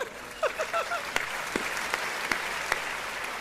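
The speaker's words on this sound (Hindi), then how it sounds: "पीछे तालियां जरा अच्छी बज जाए" An audience at a live talk event claps steadily, a continuous wash of applause with a few voices calling out briefly over it.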